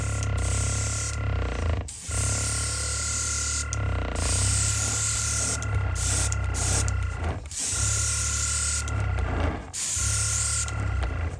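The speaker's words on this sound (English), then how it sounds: "And we'll turn the airbrush on, basically." An airbrush sprays paint onto a 1/35 scale model figure in a steady close hiss, broken by a few short pauses as the trigger is released, over a low compressor hum.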